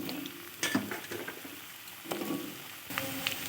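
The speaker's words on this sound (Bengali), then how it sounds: "আমি ওই তেলে আলুগুলো ভেজে নেব।" Potatoes frying in oil from a Bengali chhana bora curry recipe, a steady soft sizzle with a few louder bursts of crackle and clatter, heard alone without talk.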